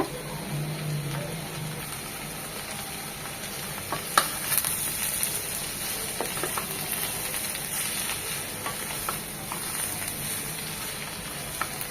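Red amaranth greens fry with a soft, continuous sizzle while a utensil scrapes and clicks against the pan in irregular stirring strokes.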